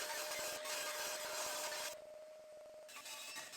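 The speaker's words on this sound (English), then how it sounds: "for that I use my miter saw" A miter saw cuts through a reclaimed wood beam, a loud whining rasp that eases off midway as the blade clears the cut, then picks up again, with no talking.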